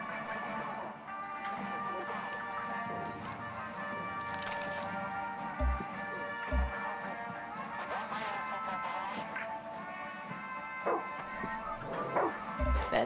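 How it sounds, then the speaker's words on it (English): A caged dog in Far Cry 6 barking in short repeated bursts, fairly faint and somewhat distant, over a continuous ambient game backdrop with occasional thuds. "Oh, doggy को यहाँ पे बंद करके रखा हुआ है।"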